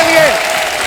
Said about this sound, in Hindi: जोरदार तालियां अन्ना के लिए